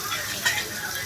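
Chopped onions hit hot oil with a couple of green chillies in a pan, giving a brief, steady, fairly quiet sizzle and crackle.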